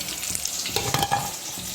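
Brief soft bubbling sizzle of sweet lentil balls frying slowly in hot oil, close and steady with a slight watery crackle.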